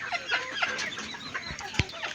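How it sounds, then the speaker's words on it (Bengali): Clucks from a yellow forest rooster (jungle fowl) kept with a hen for sale, several short calls close by at an uneven pace over a scratchy background, with one sharp louder cluck near the end. "এই যে হলুদ কালারের যে মোরগটা দেখাইতেছি আপনাদেরকে"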